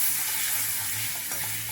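Grated raw mango with curry leaves, asafoetida and turmeric is stirred in a frying pan over a low flame, giving a soft continuous sizzle with light scraping, close by and without speech.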